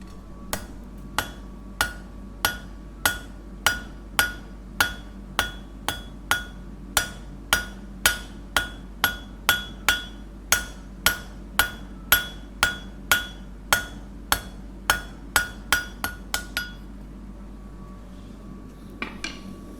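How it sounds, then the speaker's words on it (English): A blacksmith at Holkham Forge strikes hot metal on an anvil with a roughly two-pound hand hammer, delivering about thirty loud, ringing, evenly spaced blows that speed up slightly near the end before stopping. "A hammer, hand hammer, maybe 2 pounds roughly, a kilo sort of weight, and an anvil"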